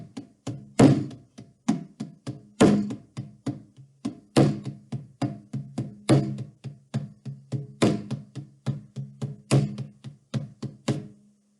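Sharp percussion hits, likely hand drums or knocks, repeat in a steady lilting 6/8 pattern with stronger accents at the start of each group. Loud and close, with no voices.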